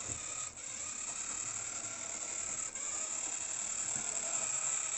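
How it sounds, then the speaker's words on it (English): A Jouef 040TA model shunter locomotive with a 3-pole gear-drive motor running on track, a faint, steady mechanical whir with light ticking and a couple of brief dips. "The 3-pole motor shunter's getting on quite well."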